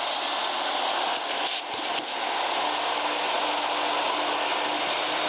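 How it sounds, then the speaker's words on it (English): A Ruwac R200 two-motor Red Line industrial vacuum fitted with an anti-static urethane hose, running as a loud, continuous roaring whoosh with a brief dip in pitch around the middle as material is drawn through. "We're going to be using our anti-static urethane hose with grounded cuffs today, and our 2-motor Red Line vacuum"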